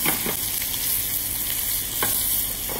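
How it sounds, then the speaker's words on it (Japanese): Chicken skin sears in a frying pan over medium-high heat with a steady, close sizzle, broken by a few faint scraping touches as the meat is pressed down, with no voices. "こうやってフライパンの表面に押してあげると、きれいに平均に皮に焼き色がつきます。"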